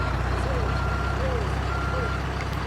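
A large truck's reversing alarm beeps steadily and repetitively amid constant low traffic rumble, with voices and other tones mixed in.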